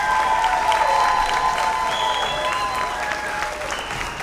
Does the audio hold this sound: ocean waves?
no